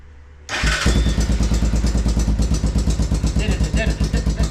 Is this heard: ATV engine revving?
yes